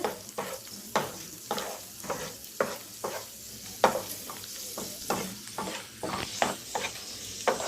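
Raisins frying lightly in oil over low gas heat for golap polao, a soft sizzle broken by repeated scraping stirs in the pan, steady and close, with no talking.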